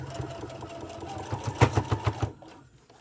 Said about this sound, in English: when I sew this, I'm sewing my seam closed and where my fabric is even